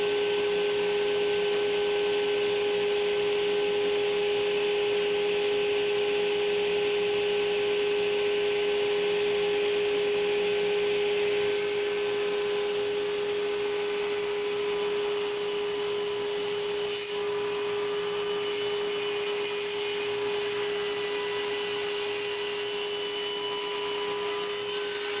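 A power tool tapers a wooden table leg, giving a steady, fairly quiet motor drone with a constant whine throughout and no voices.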